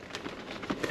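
Rain pattering on surfaces outdoors beside a dumpster, a dense hiss of drops with a few louder splats, steady and close over one short second, no voices.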